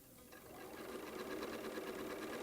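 A sewing machine runs continuously while stitching a quarter-inch seam on a quilt, a steady rapid mechanical chatter that starts softly and settles into an even, close hum.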